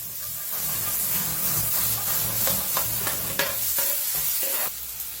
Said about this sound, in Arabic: طاوة نخليها تسخن قليل زيت، نخلي الزيت يسخن شوية ونضيف البصل